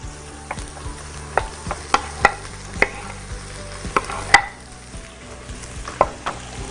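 Tomato frying in a pan, a low steady sizzle broken by sharp spatula clicks and taps on the pan at irregular intervals.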